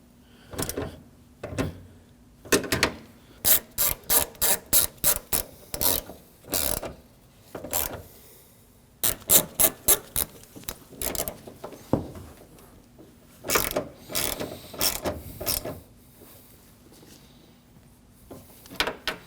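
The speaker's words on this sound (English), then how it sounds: "When I give these bolts a final tighten, I like to hold the mirror against the body." A hand ratchet tightening the side mirror bolts on a 2013-2015 Subaru XV Crosstrek, heard as bursts of rapid close clicking that stop and start through the stretch, with brief pauses and small handling knocks between them.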